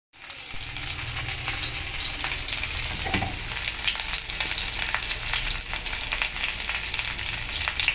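Mango pieces go into a hot pan, and a steady, close sizzle of frying fills the whole stretch, with soft stirring scrapes and no voices.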